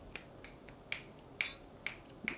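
Six or seven sharp finger snaps at an irregular pace, fairly faint against a quiet background, with no talking.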